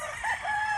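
A gamefowl farm rooster crows once, close and loud, its drawn-out call rising and holding over steady ambient noise, with no talk.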